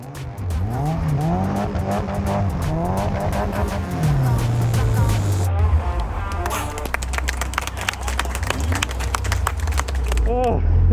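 A budget drift car spins a final donut, its engine revving up and down in wavering surges while tires squeal and skid loudly, ending in a burst of high screeching as the spin closes.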